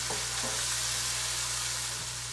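Masala mixed with fish masala, salt and lemon juice frying in a pan, a steady soft sizzle with a few faint stirring scrapes, close and continuous with no voices.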